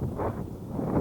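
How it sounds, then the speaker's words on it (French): Gusty wind buffets the microphone outdoors in a garden where a Hobao Hyper 8 SC radio-controlled car is running, a continuous rough roar with no voices. "Ah, il y a du vent là"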